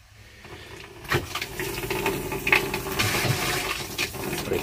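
Water running through an RV shower during winterizing with pink antifreeze: after a short quiet start, a sudden gush turns into steady splashing, rushing flow with some clunks, fairly close and without speech.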